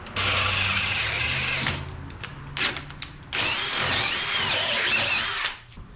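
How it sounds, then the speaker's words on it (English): A power drill whines in bursts, drilling out a hole for a 1/4-20 through bolt in a 1977 Datsun 620 dash, running steadily, pausing briefly with a few short stops, then spinning again before cutting off near the end. "Gotta drill that out where the 1/4-20 bolt will be a through bolt now."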